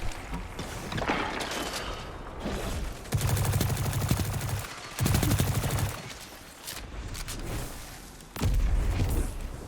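Rapid gunfire bursts from the video game Destiny 2, loud and close, broken by heavy booming volleys and short pauses, with no talking.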